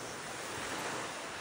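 Sea waves wash and hiss in a continuous broadband roar, close and steady, mixed with wind buffeting the microphone.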